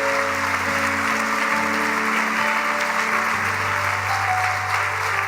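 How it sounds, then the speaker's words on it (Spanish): Church congregation applauding after a sermon, with a broad steady wash of clapping lasting throughout over a low sustained organ-like hum. "¡Fuerte ese aplauso!"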